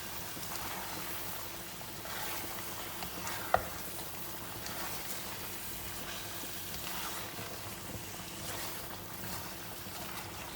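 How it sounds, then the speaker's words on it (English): A steady, faint sizzle of fish sambal frying in a pan, continuous throughout, with one brief sharp clink partway through and no talk. "After we have added the fish, we cook another 2 minutes."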